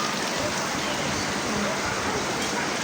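Heavy morning rain falls outside in a dense, unbroken hiss that stays loud and even from start to finish.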